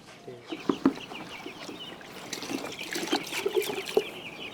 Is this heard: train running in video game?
no